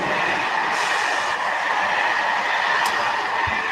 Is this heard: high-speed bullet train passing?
yes